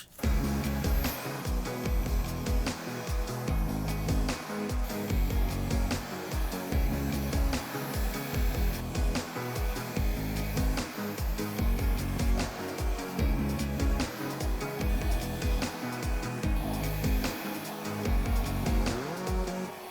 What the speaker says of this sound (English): I think I'm just gonna use a blow dryer.